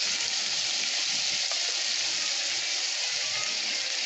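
Steak bites searing in a pan for garlic butter steak, giving a loud, continuous, dense sizzle close up with no talk over it.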